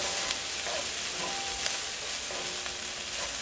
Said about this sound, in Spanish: Seguimos sofriendo.